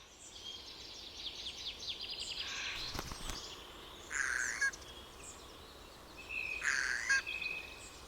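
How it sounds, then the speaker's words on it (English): Eurasian jay calling in scrubland, a few harsh, raspy bursts spaced a couple of seconds apart, moderately near over a quiet background with faint chirping. "Here is the Eurasian jay, quite elegant indeed, with its adornment of blue checkerboard print that highlights the edge of its wings"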